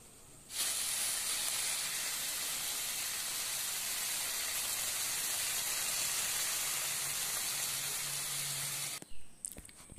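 Bitter gourd and potato curry sizzles in the pan as the last water cooks off, a steady, close hissing that runs almost without a break before it stops abruptly.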